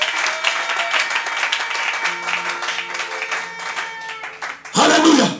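A church congregation bursts into applause during a French-language worship service, the clapping dense and loud, with a preacher's voice and sustained tones running beneath before a sharp final surge of cheering.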